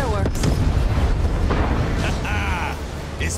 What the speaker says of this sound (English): Check out the fireworks.